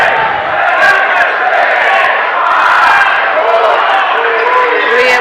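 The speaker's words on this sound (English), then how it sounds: "Crowd definitely cheering on our Vikings with 16 seconds left." A high school gym crowd at a Niles North boys basketball game against Glenbrook South roars and cheers steadily for the home Vikings in the closing seconds of a quarter, loud and continuous with occasional shouts.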